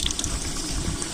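Water is poured into biryani cooking in a pot, a brief steady gush of liquid heard up close with no talk over it.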